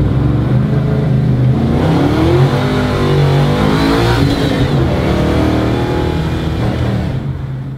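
A 1966 Beaumont's loud engine revs steadily, its pitch rising and falling in a throaty roar, close by and heard alone without speech.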